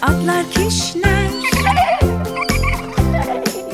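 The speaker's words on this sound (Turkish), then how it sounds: "Atlar kişner." A horse neighs in high, shaky whinnies over a rhythmic children's song with a steady thumping beat underneath.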